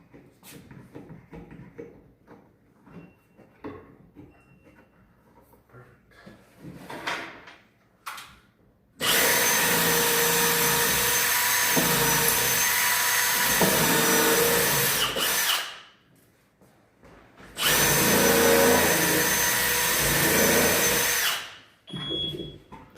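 Cordless drill driving 2.5-inch number 8 screws through pilot holes into an upper kitchen cabinet, two long loud whirring bursts after quieter handling clunks and taps, close up.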